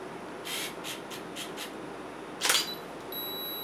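A DSLR camera shot at f/3.5, 1/250 second and ISO 100 gives a quiet series of clicks followed by one crisp shutter snap, then a faint high flash whine, close up in a quiet room.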